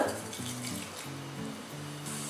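Stone flower spice hitting hot oil for a tomato salna, a steady close frying sizzle with faint clinks of a pan and stirring throughout.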